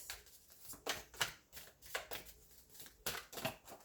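Tarot cards shuffled by hand for a reading produce soft, close, papery swishes and riffles in uneven bursts, quiet and alone with no talking.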